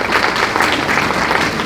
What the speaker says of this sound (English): give a round of applause for that